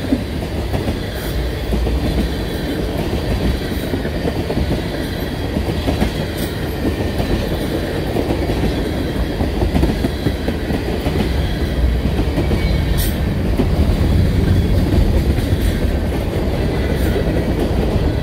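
A mixed manifest freight train rolls past close by, a steady, loud rumble of railcars with rhythmic wheel clatter on the rails that continues for the whole stretch with no voices.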